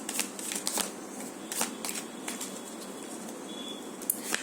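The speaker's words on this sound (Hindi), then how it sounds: "जितना आएगा एक रीडिंग में, एक शफल में, उतना ही लूंगी।" Tarot cards shuffled by hand close up, a continuous papery riffle and patter with sharper card snaps scattered through, no talking.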